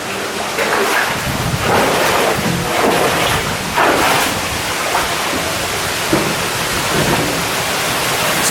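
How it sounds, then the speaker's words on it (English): Loud rushing water roars steadily inside a large abandoned mine, broad and turbulent, with surging swells every second or so and no voices. "the rushing water is coming from here"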